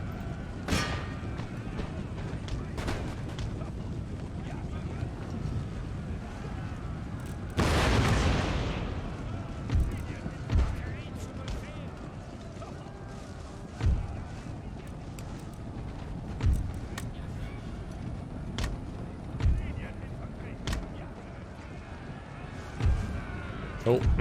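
Cannon artillery fire in a Prussian campaign battle of Empire: Total War, with horse hooves clip-clopping throughout, one heavy burst of booms near the start and scattered distant cannon thumps after it, while a voice talks over parts of it.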